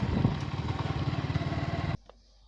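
A motorcycle ridden along village roads on a cold day gives a close, loud, rhythmic engine putter that pulses steadily, then cuts off abruptly near the end, leaving near silence.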